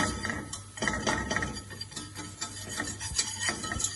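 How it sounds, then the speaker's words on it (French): A whisk beating a light roux for béchamel in a pan, rapid continuous scraping and rubbing strokes with faint metallic clinks, close and fairly loud, no voices. "Alors on fouette."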